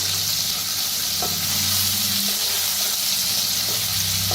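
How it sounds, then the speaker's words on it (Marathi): Crushed green chilli, garlic and coriander fry in hot oil as a tempering, giving a loud, dense, continuous sizzle with faint stirring under it. "आता छान भाजून घेऊया।"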